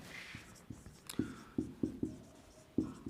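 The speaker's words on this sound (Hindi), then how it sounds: "मैं लिख देता हूं" Pen or pencil writing by hand as a teacher notes down a geography lesson, a series of close, distinct scratchy strokes and taps in an uneven rhythm, heard alone without talk.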